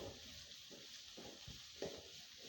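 Sliced small shallots sizzle in hot oil in a pan as they are stirred, a faint steady frying hiss broken by soft scraping strokes.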